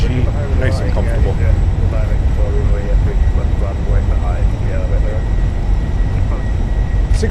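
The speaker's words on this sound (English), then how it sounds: "Nose down gently, reversers are out." In a Fenix A320 simulator game, the jet rolls out after landing at Amsterdam Schiphol with reverse thrust deployed, making a steady, loud, droning engine roar that stays constant throughout.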